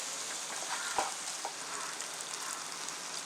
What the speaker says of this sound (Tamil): கரம் மசாலா போட்டு கொஞ்சம் வதக்கிக்கலாம்.